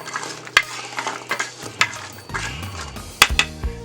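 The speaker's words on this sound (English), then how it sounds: "We're going to start searing this up." Finely diced carrots and other vegetables sear in a soup pot, a close sizzle broken by sharp utensil scrapes and clanks as they are stirred, with a low mechanical hum underneath and no talking.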